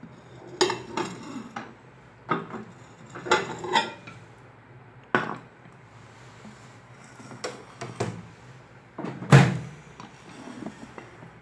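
Dishes and cutlery clatter as Shezwan Maggi noodles are taken out of a microwave in a home kitchen, with a string of sharp knocks, scrapes and one loud clunk spread irregularly across the clip, close by and with no talk.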